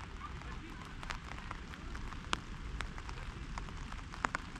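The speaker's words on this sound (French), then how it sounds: "Gros orage et grosse pluie" Steady heavy rain during a mountain thunderstorm on a Pyrenees bivouac in the Néouvielle massif, a dense continuous wash with scattered sharper drops hitting close by, no talk.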